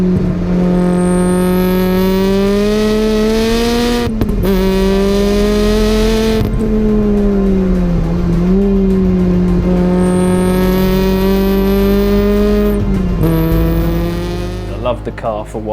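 A Nissan Silvia built to 600 hp accelerates hard, its engine a loud, close, sustained roar that climbs and dips across gear changes with brief breaks between pulls, running for about sixteen seconds.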